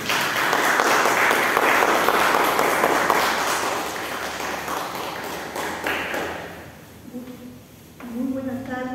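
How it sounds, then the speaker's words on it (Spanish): An audience welcomes a speaker with loud, dense applause at a public talk. The clapping fades toward the end, and a voice begins speaking over it. "quisiera darle la bienvenida a Loretta, con un fuerte aplauso, por favor."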